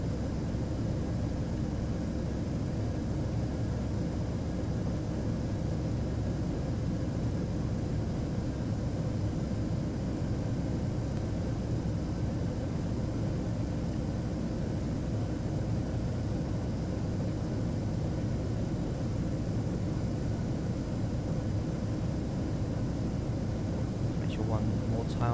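Engines of a Ryanair Boeing 737-800 during descent, a loud, steady broadband roar that holds unchanged throughout with no pauses.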